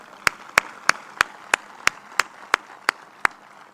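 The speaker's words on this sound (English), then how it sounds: "Let's welcome Uday with a very big applause." At a university convocation, a single pair of hands claps about ten times in a slow, even rhythm, sharp and fairly close over a quiet room.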